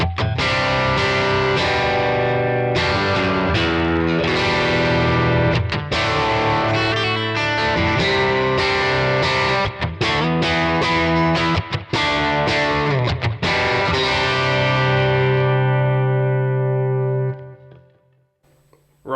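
Electric guitar played on the bridge pickup through a thick Kemper profile on an FM3, loud distorted chords and chugging riffs for about seventeen seconds, then a final chord rings out and fades.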